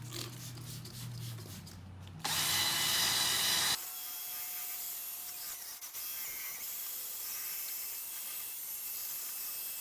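Headlight lens on a car being wet-sanded by hand with fine 1500 grit sandpaper, a steady close rubbing hiss with a brighter, louder burst of scrubbing partway through, no voices.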